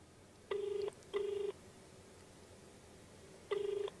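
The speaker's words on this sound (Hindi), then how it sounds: "देखिए काफ़ी लंबी बेल इस वक्त जा रही है।" Ringback tone of an unanswered phone call to a Delhi hospital: a double ring burst, a long pause, then another ring, steady and clear with no one picking up.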